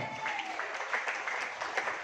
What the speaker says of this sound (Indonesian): Tepuk tangan buat Bapak Ustadz Khairul Subagio.